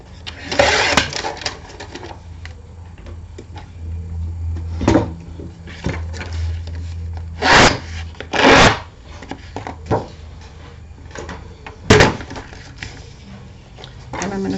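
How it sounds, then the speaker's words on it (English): Paper being trimmed for a handmade mini album, soft scraping and slicing strokes with a few louder swishes and rustles, close and intermittent over a quiet background. "I'm going to just trim a smidgen off this one."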